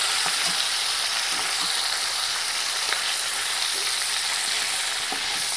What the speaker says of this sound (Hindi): प्यासी मछली फ्राई करने में बहुत ज़्यादा कहे तो उड़ता है तेल